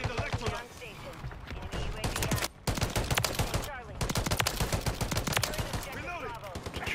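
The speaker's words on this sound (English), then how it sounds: "Aside from the Kar 98, it's definitely the most fun marksman rifle." Rapid gunfire from an MCW marksman rifle in a first-person shooter video game, dense repeated shots with brief pauses, loud and close, some voice mixed in.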